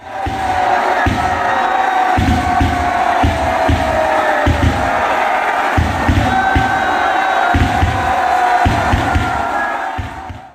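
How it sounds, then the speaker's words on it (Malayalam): Dense festival crowd at a temple flag hoisting for the Chinakkathur Pooram, roaring, cheering and shouting continuously at high volume, with rhythmic thumping bursts throughout and no clear individual speech. "കൂടെ ആർപ്പുവിളികളും അയ്യയ്യോ വിളിയും"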